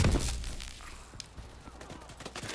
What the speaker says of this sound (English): Let's start shooting with some SN6 here.